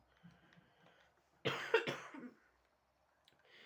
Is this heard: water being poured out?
no